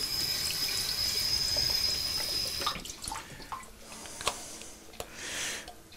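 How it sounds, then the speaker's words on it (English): Water trickles from a tap into a home-brew airlock for hard cider, a steady running pour for the first few seconds, then stopping and leaving faint handling clicks and drips. "Just fill it with a little bit of water here."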